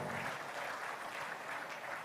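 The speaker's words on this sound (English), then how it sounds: "Please applaud him." Audience applause at a Nigerian investment summit in Edo State, a steady even patter of many hands clapping at moderate level for just over two seconds, with no voices standing out.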